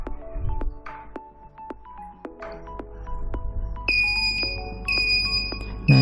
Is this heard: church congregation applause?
no